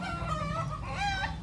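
A Pava fino rooster and hen close by, with a run of throaty clucks and a strained crowing call from the rooster, loud and alone without any talk.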